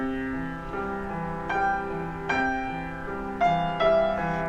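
Piano left hand playing a broken chord pattern for Away in a Manger, cycling bottom, middle and top notes in a steady rhythm, with sustained tones overlapping, moderately loud and close, with no talking.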